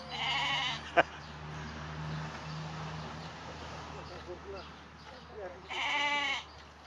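Sheep bleat loudly in two drawn-out calls, one at the start and one near the end, during milking with lambs nearby, with a brief knock and low farmyard noise between.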